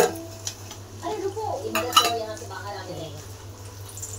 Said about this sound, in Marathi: तवा गरम झालाय. आता तेल टाकून घेते.